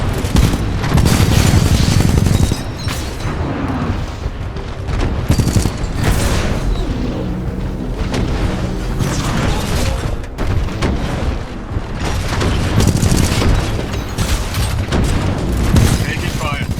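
Dense gunfire and booming explosions in the video game Titanfall 2 run loud and continuous throughout, rapid shots layered over heavy blasts with voices mixed in.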